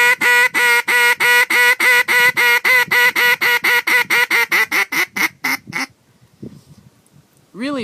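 A duck call blown in a long run of rapid, evenly spaced loud quacks that gradually shorten and speed up before trailing off, with one more note starting at the very end.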